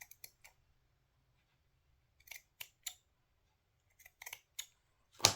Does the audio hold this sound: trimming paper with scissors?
yes